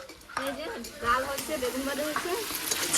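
Duck meat cooking village-style in a pan crackles and sizzles with occasional stirring, close up, while a voice talks over it.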